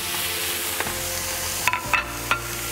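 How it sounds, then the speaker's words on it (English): Beef and fresh vegetables stir-fry in a hot pan on a Rayburn range cooker, giving a steady close sizzle broken by a few sharp clatters of stirring. "as you can hear the heat generated in the pan"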